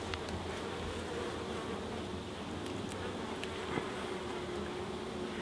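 Honeybees buzz in a dense, continuous hum during a UK hive inspection, fairly faint and close, with no talking over it.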